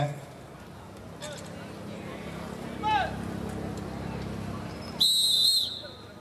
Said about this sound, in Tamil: அம்பையர் விசில் விட போறாங்க.